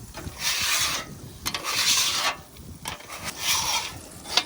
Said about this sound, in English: Scrape off all the food and grease, and I like to push it right back into the grease